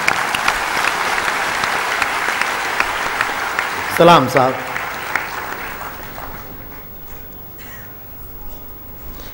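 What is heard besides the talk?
audience applause for poet Buddhisen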